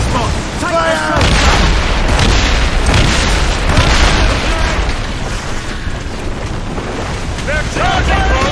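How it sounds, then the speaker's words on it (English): Naval cannons boom in a sea battle in Assassin's Creed Rogue, heavy loud blasts and rumbling over wind and water, with shouted crew voices cutting in near the start and end. "Cannon! Fire!"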